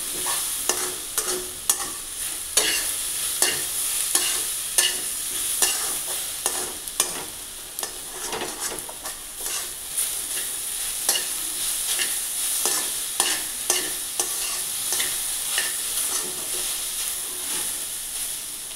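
Okra with gram flour stir-frying in oil, with a continuous sizzle and repeated scraping stirs of a spatula against the pan, close up, with no talking.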